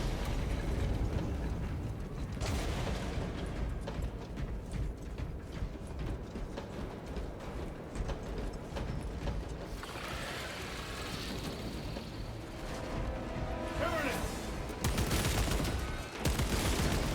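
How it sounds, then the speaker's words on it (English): In the video game Space Marine 2, a bolt rifle with an underslung grenade launcher fires in rapid, sustained bursts against a swarm of alien creatures, with heavier blasts and mechanical clatter breaking up the barrage. "Bolt rifle with grenade launcher."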